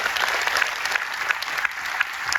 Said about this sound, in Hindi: उनके लिए एक बार ताली बजा सकते हैं अपन?